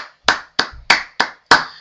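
Five sharp, separate hand claps from a single person, spaced roughly a third of a second apart, close and dry with silence between them.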